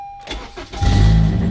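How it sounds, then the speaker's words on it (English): A VTEC-equipped car engine cranks briefly and catches, then rises into a loud, close rumbling start-up, with no talking. "let's go ahead and start up this VTEC machine"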